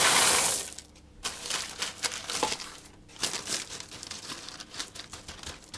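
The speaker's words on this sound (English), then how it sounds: "And now I'm going to pour in" Baking beans are poured into a parchment-lined pastry case for a Manchester tart, a close rattling patter over crinkling paper, coming in two short pours with a pause between.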